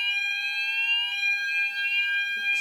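A fire alarm sounds during a test, a loud continuous electronic tone with steady high harmonics that holds for the whole stretch, with no voices over it.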